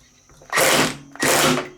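An impact wrench tightens bolts on an engine in two loud bursts of about half a second each, rattling hammer blows with a short pause between them, in a workshop with no talk.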